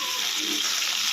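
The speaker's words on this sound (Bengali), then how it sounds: "নুন হলুদ দিয়ে আলুটাকে লাল লাল করে ভেজে নেওয়া হবে" Potatoes frying in a pan with salt and turmeric, giving a steady broadband sizzle with a soft watery hiss that holds evenly throughout, close and moderately quiet.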